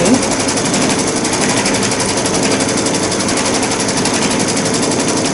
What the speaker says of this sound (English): I'm going to go ahead and just lower my presser foot and stitch out the first part of the design.